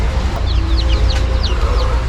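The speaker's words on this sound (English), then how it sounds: "There's chicks over here." Chickens, including naked-neck birds, cluck softly in short repeated chirping calls over a steady low rumble of background noise.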